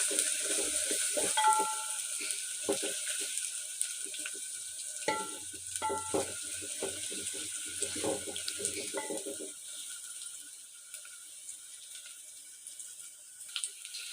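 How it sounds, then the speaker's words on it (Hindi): Ginger garlic paste frying with browned onions in a pan, a soft sizzle under irregular scraping and stirring knocks that die away, leaving a quiet hiss. "अब डालेंगे लहसुन अदरक का पेस्ट। इसको भूनेंगे अच्छी तरह 3 से 4 मिनट।"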